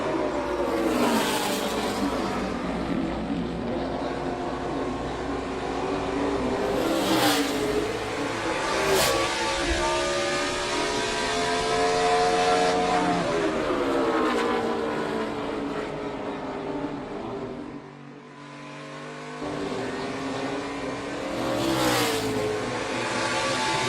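A NASCAR Chevrolet race car screams through a 2014 Sprint Cup qualifying lap, its engine note rising and falling loudly and continuously, with a brief dip near the end before the roar returns.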